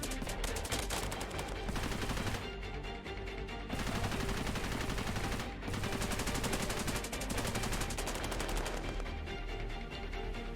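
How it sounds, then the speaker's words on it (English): Machine gun nests and other weapons fire in the Cepheus Protocol strategy game, producing dense, sustained gunfire that rattles continuously throughout, with overlapping bursts and no clear pauses. "So the machine gun nests are covering us."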